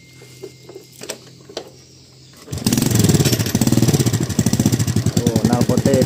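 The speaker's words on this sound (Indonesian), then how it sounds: "Oh, knalpotnya bocor ya." A Honda Revo Absolute motorcycle with a leaking, broken exhaust starts after a few faint clicks, then runs with a loud, rapid, uneven putter and raspy exhaust chatter up close.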